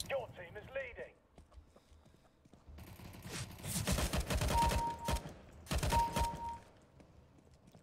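Bursts of rapid automatic gunfire in Counter-Strike: Global Offensive, two dense volleys of loud, close shots in the second half, after a quieter stretch with a brief voice at the start.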